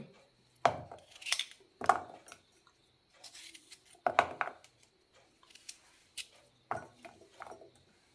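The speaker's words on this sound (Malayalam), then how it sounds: "ചെറിയ കഷ്ണങ്ങളാക്കാം ഈ ഒരു വലുപ്പത്തിലുള്ള കഷ്ണങ്ങളായി മുറിക്കാം" Knife chops peeled pumpkin into small pieces on a board, sharp separate cuts with knocks and soft squishes at an uneven pace, close and fairly quiet, with no talk.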